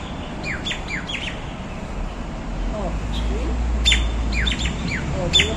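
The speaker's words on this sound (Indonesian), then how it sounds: "Ada burung guys, lagi nyari temannya guys." Birds chirp in the early morning, with repeated short tweets and calls in scattered bursts over a low steady rumble of distant traffic.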